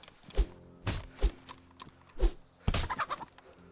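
Chickens in the video game DayZ give a few short, clucking calls at a moderate distance, spaced apart, with a busier cluster of clucks near the end.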